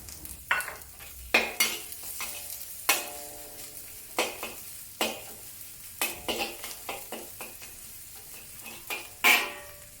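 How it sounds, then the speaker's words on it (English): Coarsely chopped garlic fries in hot vegetable oil over medium heat for a Cantonese pork stir-fry, a low sizzle punctuated by a dozen sharp metallic clanks and scrapes of a utensil stirring in the pan. "Heat some vegetable oil to medium heat, then add the coarsely chopped garlic."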